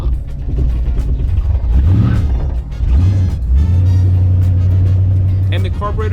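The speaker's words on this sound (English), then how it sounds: "From this point on, it was misfiring and it would try to die every time the car came to a stop." A 1950 Ford's engine with carburetor trouble runs loud and close, rumbling unevenly, stumbling and sagging in pitch before settling into a rough, droning idle.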